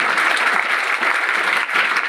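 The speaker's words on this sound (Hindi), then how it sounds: "ताली हो जाए उसके लिए भाई।" A school-hall satsang crowd applauding, a bright, even wash of many hands clapping at full volume for about two seconds, nobody talking.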